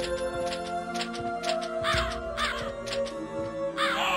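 Crows cawing in the game Castlevania: Symphony of the Night, a rapid series of loud harsh caws repeating in a regular rhythm over a sustained musical drone.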